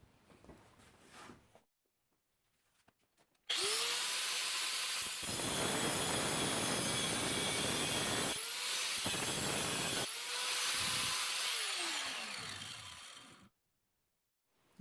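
An angle grinder cuts through a metal Dremel blade clamped in a vise, a loud, steady high-pitched grinding that runs about ten seconds in a few long bursts with brief dips between, after a quiet start.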